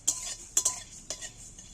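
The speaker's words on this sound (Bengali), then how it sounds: "খালি গরম কড়া এটাকে নেড়ে আমি একটু ভেজে নিচ্ছি" Whole fennel, cumin, black mustard seeds and a dried red chilli dry-roasting in an empty hot wok, with a few sharp scraping strokes of a stirring spoon against the metal and faint rustle between them.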